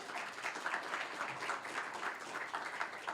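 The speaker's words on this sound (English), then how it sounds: "a special round of applause to all the colleges for all their hard work" Audience applause for colleges at a regional idea pitch event, faint and distant steady clapping with a pulsing texture, no voices over it.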